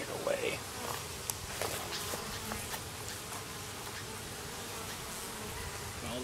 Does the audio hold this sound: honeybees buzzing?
yes